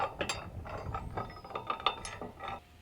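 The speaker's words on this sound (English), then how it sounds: "Take your nuts and secure them down. It's going to need 2 sockets, 11/16, and snug them up." A socket ratchet snugs down nuts on 11/16 bolts while fitting a bike rack receiver hitch to an RV bumper, giving quiet, quick clicking bursts in an irregular rhythm, close up.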